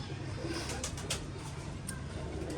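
A pigeon coos softly nearby, a low repeated throaty call over a steady background hum.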